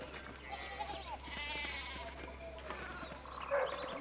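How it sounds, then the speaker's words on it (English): Sheep bleat in the video game Pentiment, several wavering calls overlapping near and far against a low steady hum, with a louder bleat close by toward the end. "this is a lot of sheep."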